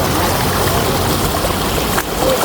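Waterfall at Pa La-u in the Hua Hin, Prachuap Khiri Khan area, a steady broadband rush of falling water filling the scene evenly and loudly, with a brief splashy change near the end and no talking.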